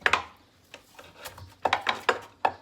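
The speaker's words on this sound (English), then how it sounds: "I think I'm actually just gonna do a little scrub since this is going in honey" Elecampane roots being scrubbed clean of dirt by hand, a series of short, uneven rasping rubs that come in bursts with brief pauses between them, close up and without any talking.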